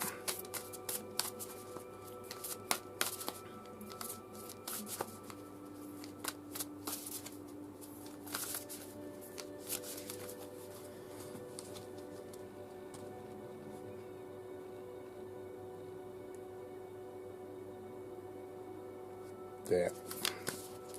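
Oracle cards shuffled by hand for a daily draw, quick papery riffles and taps up close, clustered at the start and again near the end with quieter handling between.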